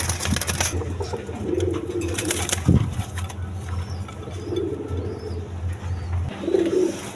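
Pigeons at a farm coo in repeated low, soft phrases spaced a few seconds apart, with a sharp flutter or knock near the start and a quiet, steady background hum.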